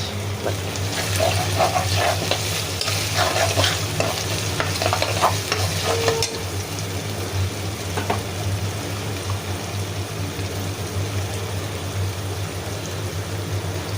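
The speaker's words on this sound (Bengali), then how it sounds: "আর এই যে মাংস আলু ভাজছিলাম, এটা তেলটা দিয়ে দিতেছি।" Meat and potatoes fry and sizzle in hot oil in a home kitchen, a steady crackling hiss with scraping stirring strokes early on, continuous and close with no voices.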